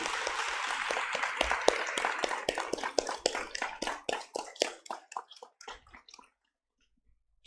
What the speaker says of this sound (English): they need a round of applause from all of us